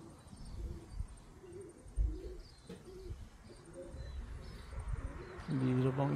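A racing pigeon coos in soft, repeated low calls amid outdoor background noise, with a few faint chirps and a louder burst near the end.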